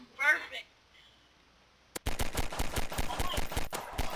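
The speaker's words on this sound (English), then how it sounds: "how weak is that pistol? It took you 2 shots." In the video game Garry's Mod, a brief voice is followed by a short silence, then a dense, rapid volley of sharp gunshots crackling close and loud for about two seconds.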